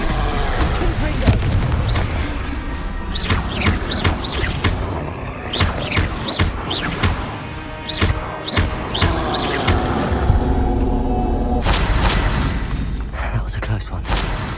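Explosive Confringo spell blasts in the Hogwarts Legacy video game, loud booms and crackling bursts tumbling one after another over game music and effects.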